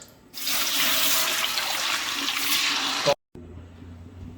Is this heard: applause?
no